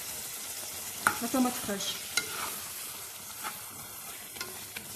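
Semolina dumplings for berkoukes are stirred in a hot frying pan, giving a steady sizzle with scraping knocks from the utensil and a few brief spoken words.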